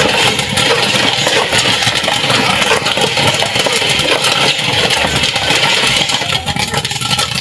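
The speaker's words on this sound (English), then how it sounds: "It's popping. I hope you are hearing the sound." Milky popcorn pops inside a manual stovetop popcorn machine over gas while being stirred, producing a dense, continuous crackle of rapid kernel bursts, loud and close, with no pauses.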